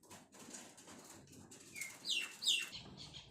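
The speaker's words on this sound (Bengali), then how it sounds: "এখানে অনেকগুলো পায়রা সব বসে আছে আর দেখো এরা চাল খাচ্ছে" Pigeon wings flutter up close in short bursts as the pigeons eat scattered rice, with soft bird calls and light pecking in a quiet outdoor setting.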